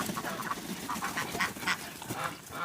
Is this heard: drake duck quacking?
yes